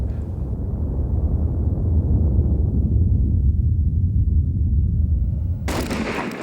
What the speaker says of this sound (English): This explosion was filmed in extreme slow motion